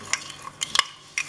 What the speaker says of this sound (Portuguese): coloquei a granola, o Danone, agora a gente mistura